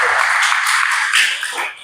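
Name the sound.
congregation applause in church service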